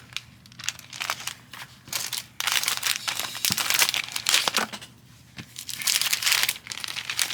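A cellophane bag crinkles and rustles close up as a crocheted pumpkin bear toy is packed into it, bursts of crackling handling with brief pauses between.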